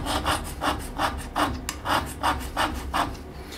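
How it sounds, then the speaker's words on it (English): A hand scraper working a flat metal surface, strong rhythmic rasping strokes repeating about every third of a second, close and loud with no talk. "So we're just going to scrape these two areas now."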